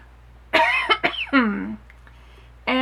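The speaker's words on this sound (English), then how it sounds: "sorry about the coughing" A person coughs a few times in a quick cluster, close and fairly loud, the last cough drawn out with a hoarse voiced tail.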